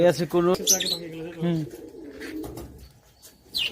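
Pigeons coo softly nearby at a pigeon farm, with chirpy calls mixed in and people talking over them.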